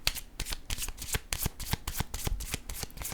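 A deck of cards is handled and shuffled during a card reading, producing a quick, close series of crisp riffling snaps and flicks in an uneven rhythm, with no speech.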